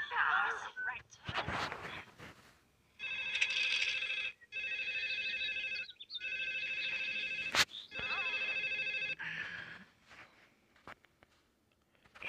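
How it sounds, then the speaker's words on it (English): A telephone ringing in The Sims video game: repeated electronic ring bursts with short gaps between, fairly loud, while a person talks before and after. "you gonna answer the phone?"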